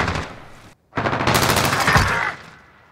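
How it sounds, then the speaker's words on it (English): A PP-Bizon submachine gun firing in Modern Warfare, a loud automatic burst that stops briefly, then a longer sustained stream of rounds that fades at the end. "I'm pulling out the bison for this last round."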